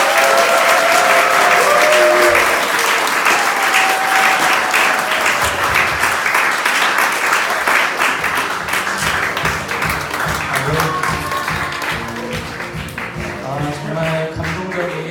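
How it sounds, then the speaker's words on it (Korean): Church congregation applauding, a dense sustained wash of many hands clapping that fills the space at steady loudness throughout, with some crowd murmur mixed in. "다시 한번 큰 박수 부탁드립니다"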